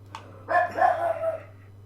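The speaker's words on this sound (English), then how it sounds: "My dog is barking." A dog at home gives a single drawn-out, tonal bark that lasts just under a second. It is preceded by a faint short yelp and set against a low steady hum, with no one speaking.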